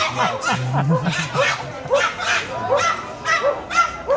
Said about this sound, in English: Oh my God, that pug's bark.